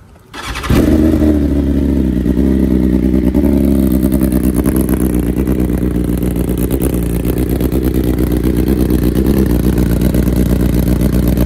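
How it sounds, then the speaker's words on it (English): A 2020 BMW S1000RR sportbike cold-starts with a quick crank, then settles into a loud, steady high idle that holds evenly close to the microphone. "Let me start it for you because I know everyone's been asking for us to start the bikes. It is a cold start, so let's see."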